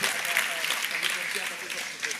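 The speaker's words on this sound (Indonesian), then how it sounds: "Tepuk tangan" An audience at an evening religious and cultural gathering applauds, a soft, diffuse patter of distant clapping heard beneath a speaker's voice throughout.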